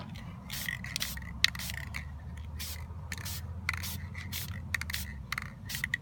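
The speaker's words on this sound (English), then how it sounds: "Gold spray paint, and it's going to get a little bit of gold feeling to it here." Gold spray paint hisses onto a textured abstract canvas in a series of short, repeated bursts, each a few tenths of a second, close and moderately loud over a low background hum.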